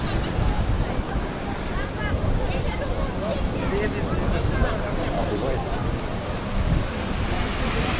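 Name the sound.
storm waves washing over the beach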